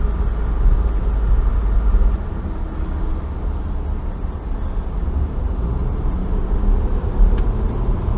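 On a snowy road in Nova Scotia after a snowstorm, a vehicle drives past with a steady, low rumbling engine and tyre roar that holds fairly loud throughout, without voices.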